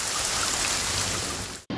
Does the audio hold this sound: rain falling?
yes